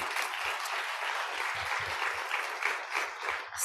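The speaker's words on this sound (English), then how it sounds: "Let's give them a round of applause" A conference audience claps warmly for a keynote, a dense, even patter of many hands that runs the whole few seconds at moderate distance.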